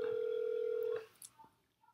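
A dial tone on a home landline plays as a single steady hum for about a second, then cuts off, followed by a few faint clicks and brief tones as dialing begins.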